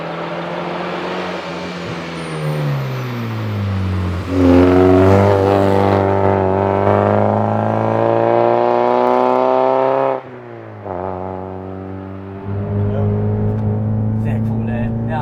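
A Mazda MX-5 NB drives along a country road, its engine droning and rising in pitch through the gears with a clear shift break partway, heard from inside the cabin under ongoing conversation.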